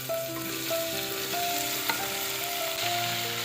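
Potato, tomato, onion, ginger and garlic sizzle steadily in a hot pan for a potato curry, with clinks and stirring sounds over a constant frying hiss.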